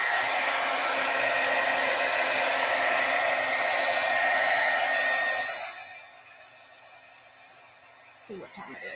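A heat tool blowing steadily to dry stamped ink on cardstock, a loud continuous whooshing hum that runs for about five seconds and then cuts off, leaving quiet room tone and a faint knock.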